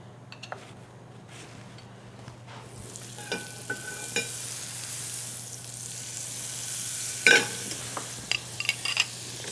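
Onion and egg frying in a stainless steel pan, a soft steady sizzle that builds gradually, with scattered clicks and scrapes of stirring and a louder clatter near the end.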